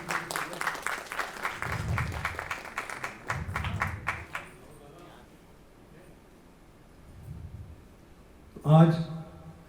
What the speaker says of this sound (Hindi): एक बार जोरदार तालियां हमारे मुख्य अतिथि महोदय के लिए।